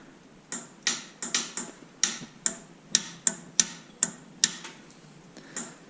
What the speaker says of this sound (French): On entend le déclic, puis il ne veut pas démarrer.